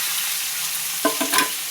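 Curry leaves, chilies, garlic and potato pieces drop into hot oil already seasoned with mustard seeds and asafoetida for a Gujarati potato dish, setting off a steady sizzle that flares in two or three louder bursts near the end.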